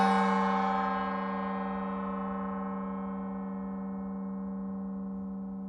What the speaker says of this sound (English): gong is meant to be calming and soothing for everyone that watches this video